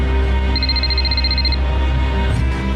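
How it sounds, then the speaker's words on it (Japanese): An incoming call from headquarters rings in an anime-style game as a short trilling tone of rapid pulses lasting about a second, over a loud low steady hum. "待て、本部からの着信だ"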